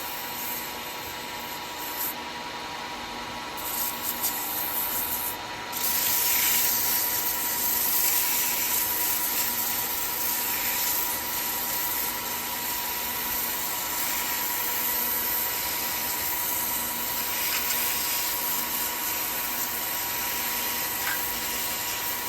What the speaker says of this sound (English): so I'm going to be wet sanding it